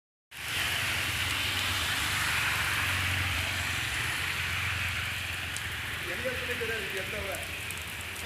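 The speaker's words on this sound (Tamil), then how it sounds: "ஒருபுறம் வெயில், மறுபுறம் மழை என மாறி மாறி" Steady rain pours down in a continuous, dense hiss outdoors during a sunshower, loud and even throughout with a low rumble beneath.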